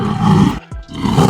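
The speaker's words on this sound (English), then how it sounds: "With a thunderous roar" A lion lets out a loud, close roar in two deep, rumbling bursts separated by a brief pause, with no other sounds around it.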